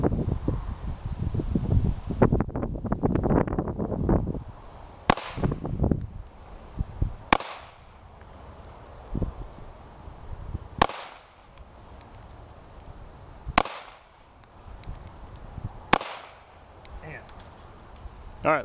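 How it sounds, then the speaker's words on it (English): A Glock 43 pistol fires five 115 grain full metal jacket rounds at a target seven yards off. Five sharp, loud reports come at uneven intervals a few seconds apart, after an opening stretch of wind and rustling. "So he's going to fire 5 rounds at 7 yards."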